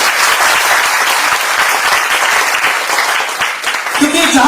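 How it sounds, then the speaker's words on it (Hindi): Loud, sustained audience applause at a Hindi comedy poetry show, dense clapping filling the hall, with a voice emerging near the end. "एक बार आप माँ हिंदी के लिए जोरदार ताली होगी।"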